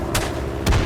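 Revolver shots in the World War I shooter game Isonzo, two sharp booming reports about half a second apart, loud and close with no talk.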